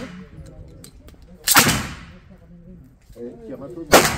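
Two loud, sharp gunshots from a firearm at an outdoor shooting session, each a sudden crack with a decaying tail, spaced a few seconds apart, with voices talking between them.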